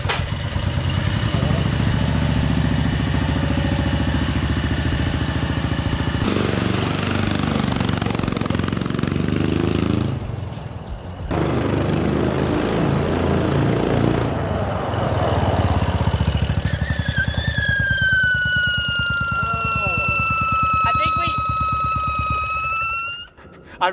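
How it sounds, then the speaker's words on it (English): A small pull-start engine runs loud and steady, its drive belt letting out a high, drawn-out screech near the end, with a brief dip in the engine noise partway through. "I forgot how bad that belt screeches."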